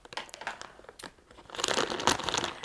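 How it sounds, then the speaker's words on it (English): Close crinkling and rustling of a crinkly fabric blanket, irregular bursts that grow louder and denser toward the end. "I apologize for the crinklies."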